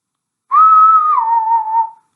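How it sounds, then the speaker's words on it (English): A single clear whistle tone, held for about a second and a half with a slight downward bend, standing alone against silence as a train whistle sound effect in an audiobook. "A whistle sounded."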